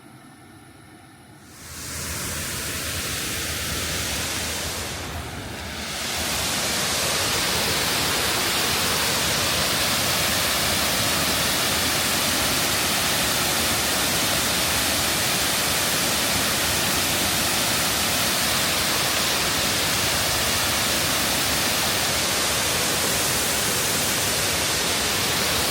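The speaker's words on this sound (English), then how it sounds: "It's mad when you see the water flowing down into that." Water rushes down into a reservoir overflow, a loud, steady roar of cascading water that swells after a brief quieter start and continues unbroken.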